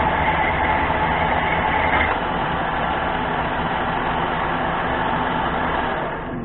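A mini lathe cutting metal with an insert tool, a loud, continuous, close grinding whir with a rough scraping texture, steady throughout with a slight drop in intensity partway.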